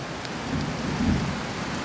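Steady rain hisses evenly throughout, with a low rumble swelling in the background; no voices.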